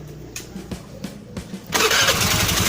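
Starter cranking on a Honda scooter (Beat, Vario or Spacy type) after a slipping starter clutch was repaired: several quick whirring crank pulses, then the engine catches at once and settles into a loud, steady close-up idle.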